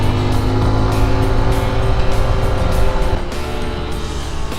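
A Honda XR 150L 2025 motorcycle ridden off-road over hard sand, its engine droning loud and close without a break, the pitch wavering slightly as the throttle shifts.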